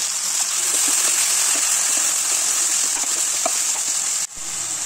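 A little water is poured into a cooking pan of chopped tomatoes, green chillies and onions for a black chickpea curry, giving a steady, fairly loud splashing hiss that runs almost continuously before briefly dropping near the end.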